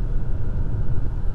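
A 2024 Toyota Crown Platinum accelerates off-road, its engine a steady, close, full-bodied rumble that holds evenly throughout with no voices over it.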